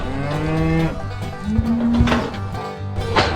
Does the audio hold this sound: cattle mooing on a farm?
yes